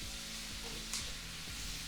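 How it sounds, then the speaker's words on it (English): Black beans with tomatoes, onions and garlic sautéing in a pan, giving a steady close sizzle with faint stirring scrapes and no voices. "You want to be able to just saute your black beans down for just a little bit."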